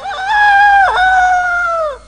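One loud, close rooster crow, a rising then long, drawn-out cock-a-doodle-doo lasting about two seconds.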